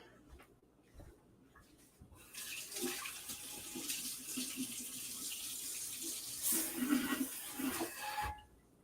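Water spraying hard from a kitchen tap during a live hot sauce cooking demo, a steady hissing rush that starts abruptly, runs for about six seconds and cuts off, with faint clatter before it.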